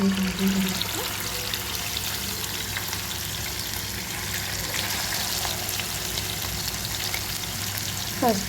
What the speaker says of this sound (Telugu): కొంచెం తక్కువ నూనె పోసుకొని వేయించుకోవాలి